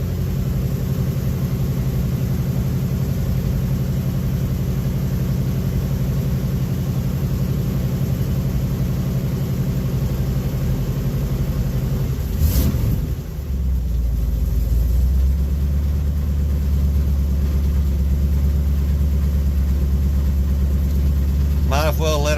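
A 1967 car engine idles steadily close by, giving a continuous low rumble that holds for the whole stretch apart from a brief disturbance around the middle.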